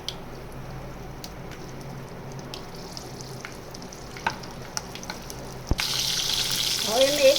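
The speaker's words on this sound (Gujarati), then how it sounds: "હવે જીરું ને રાઈ થઈ ગયા છે આપણે તેમાં મરચાં ધીમા ગેસ કરીને મૂકી દઈશું" Chillies are added to hot oil with cumin and mustard seeds over a low flame, a steady soft sizzle punctuated by small pops and clicks that grows louder and brighter as the chillies go in near the end.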